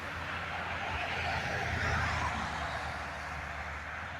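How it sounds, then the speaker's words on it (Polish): Cars moving along Dąbrowskiego Street make a steady, fairly loud wash of road noise with a low engine hum, with no single pass standing out. "Patrzcie, jakie samochody ładnie zwalniają."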